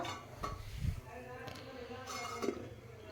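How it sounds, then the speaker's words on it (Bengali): Spiced fish curry being stirred in a pot before the lid goes on: a few soft scrapes and clinks of a spoon against metal, fairly quiet and close, with faint background noise. "এবার নাড়িয়ে চাড়িয়ে এবার ঢাকনা দিয়ে ঢেকে দেবো।"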